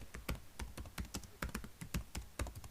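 Someone types on a computer keyboard in OpenOffice Writer, a quick run of close, distinct key taps in an uneven rhythm, quiet and with no talk.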